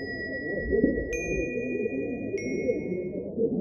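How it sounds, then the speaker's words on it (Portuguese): A temple bell in a garden, swung by the wind, rings out clearly twice with long sustained metallic tones over a steady low rumble, with no voices. "O som profundo e grave do sino do templo do jardim de sua mãe"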